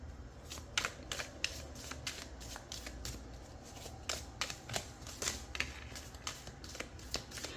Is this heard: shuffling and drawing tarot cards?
yes